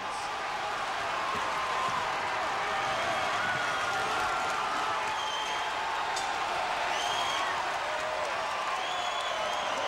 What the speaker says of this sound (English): The crowd absolutely loving it.